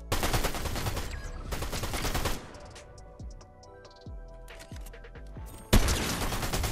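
Fortnite gunfire in a competitive duo match: two loud bursts of rapid automatic fire bracket a quieter stretch of single sharp sniper and rifle shots, each ringing out alone.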